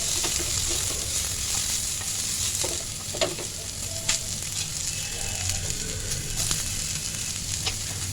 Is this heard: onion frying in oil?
yes